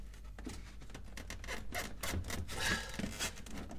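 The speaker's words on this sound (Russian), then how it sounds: "И с помощью отвертки вот так вот поддеть. Там клипсы выскакивают." A screwdriver pries plastic retaining clips loose from a refrigerator panel during a repair for a fridge that freezes everything, giving close, quiet scraping and rubbing with a few small clicks and scuffs.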